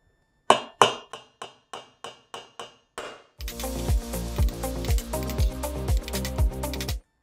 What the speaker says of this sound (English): I'm just going to literally drive a little hole into it. So not hard to do. Just wherever I want it and just give it a smack.